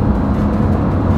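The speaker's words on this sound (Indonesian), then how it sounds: "Ini saatnya nguji nih, nguji kekuatan mesin mobil Luki." A car engine held at high revs during a power test, a steady loud droning roar with no clear rise or fall, filling the whole moment without any voices.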